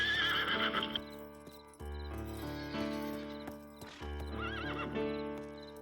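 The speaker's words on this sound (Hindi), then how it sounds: "जाओ मेरा घोड़ा लेकर आओ" A horse whinnies loudly several times with rising and falling neighs, its hooves clip-clopping steadily beneath, close and clear with no talking.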